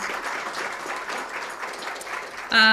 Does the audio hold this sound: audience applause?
yes